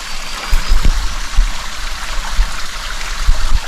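Steady rushing, trickling water of a small waterfall at Scotts Gulf fills the scene, close and continuous, with occasional low thumps underneath.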